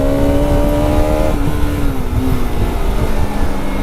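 A 2024 Bajaj Pulsar RS200 motorcycle accelerates on the road, its engine note loud and close with a rising harmonic whine that shifts pitch, over heavy wind rush.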